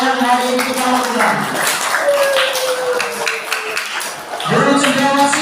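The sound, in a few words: applause from school debate audience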